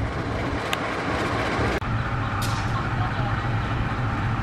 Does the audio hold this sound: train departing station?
yes